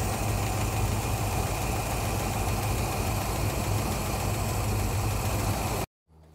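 A 1974 Satellite engine runs with a struggling carburetor, a loud, steady, rough rumble with constant vibration that holds for about six seconds before cutting off abruptly.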